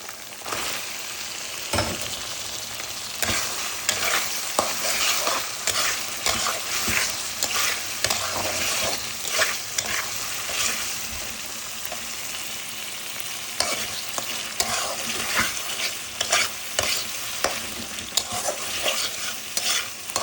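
Spices and chopped tomato fry in a hot pan, a constant crackling sizzle broken by repeated scraping and stirring strokes, close and fairly loud throughout with no talking.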